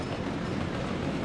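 Train ride in the Soviet-era city-building game Workers & Resources: Soviet Republic, a steady broadband rumble of rolling rail cars that continues without break at moderate level, with no talk over it.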